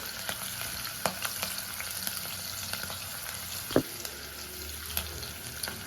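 A few spoons of ghee heat in a pan for white rice, producing a faint, continuous crackling sizzle punctuated by light taps and a single sharper clunk, with nobody speaking.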